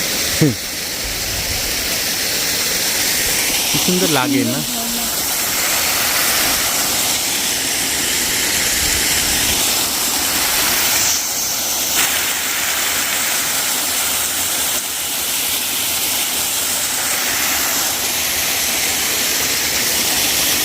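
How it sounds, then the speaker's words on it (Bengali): A waterfall in the Kalimpong hills pours with a steady, broad rushing roar that fills the whole stretch, and a voice speaks briefly near the start. "আরেকটা ঝর্ণার সামনে আমরা চলে এসেছি।"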